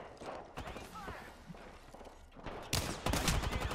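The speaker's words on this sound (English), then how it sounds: "With a Bloodhound, and I'm missing every single shot" Rapid gunfire from the PC shooter game Apex Legends, bursts of close, loud shots and clattering weapon mechanics layered over players talking, with a heavier volley near the end.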